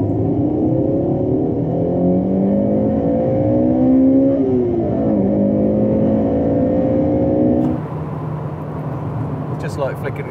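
A Honda Integra Type R's VTEC engine revs hard while driving, its pitch climbing through two long pulls with a gearshift between, loud and near, before easing off into quieter cabin rumble near the end.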